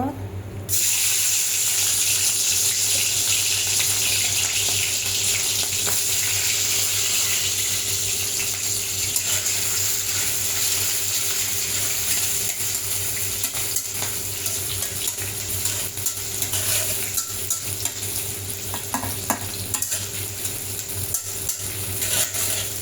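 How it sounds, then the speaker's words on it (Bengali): Shrimp frying in hot oil before being cooked with taro stolons: a continuous, even sizzle over a low steady hum, holding at constant loudness throughout with faint stirring. "চিংড়ি মাছটা একটু ভেজে নিচ্ছি"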